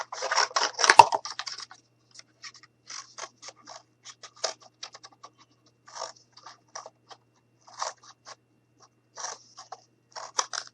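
Scissors snipping through paper while cutting out an Easter paper craft decoration, a loud burst of close cuts at first, then scattered short snips and paper rustles at an irregular pace.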